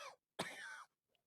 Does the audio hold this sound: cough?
yes